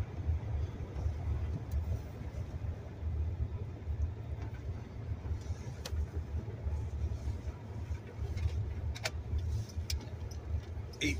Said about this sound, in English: I like driving in the snow, especially on the road.